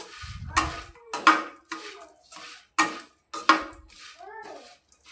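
A spoon clinks and scrapes against a bowl as homemade curry leaf chutney is mixed with salt and sugar, giving sharp irregular taps with quieter stirring between them, close and clear.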